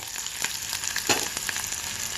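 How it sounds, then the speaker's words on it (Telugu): Curry leaves and other ingredients sizzle and crackle in hot oil in a pan for jonna rava upma, with close, continuous frying pops and small bursts. "బాగా గుల్లగా దోరగా చూడండి, అన్నీ వేగుతున్నాయి"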